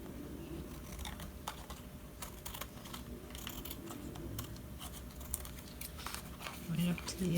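Scissors trimming paper off a junk journal page right up to the edge, a run of quiet close snips and paper rustles, with a voice talking at points over the cutting.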